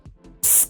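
Airbrush spraying Army Painter yellow paint onto a miniature, a short loud hiss of air bursting out after two soft clicks, close to the listener.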